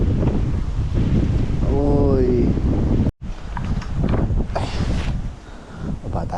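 Strong wind buffets the microphone near the water during a fishing outing, a steady broadband rush throughout with a brief dropout midway; someone speaks over it, and a short whistling tone rises briefly.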